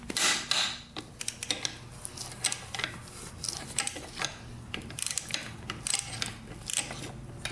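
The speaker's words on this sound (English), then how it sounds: "I need the breaker bar for that one." Breaker bar loosening tight bolts on a Yamaha YZ250F dirt bike engine during a repair, irregular ratcheting clicks and metallic creaks in quick bursts, close and moderately loud.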